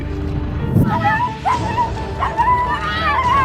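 Dog whimpering and yelping in distress while being freed from a huge snake, several high whines rising and falling over rustling and background noise, with voices partly underneath.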